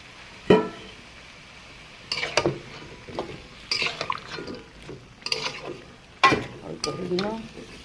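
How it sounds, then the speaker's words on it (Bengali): Chopped kohlrabi sautéed in a pan, a soft background sizzle punctuated by several sharp spatula scrapes and clanks against the pan at irregular intervals. "ওলকপিগুলো সুন্দর করে কষিয়ে নেব"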